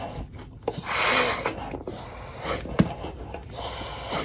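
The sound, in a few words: gas mask being put on and its seal checked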